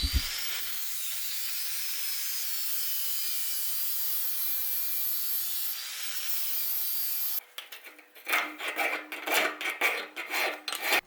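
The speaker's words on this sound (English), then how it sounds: "So I cut out little spacers from a pipe that I could put into the arms" Little spacers are cut from a pipe in a garage workshop: a steady hissing rush of noise gives way near the end to quick, rhythmic back-and-forth sawing strokes, close and fairly loud.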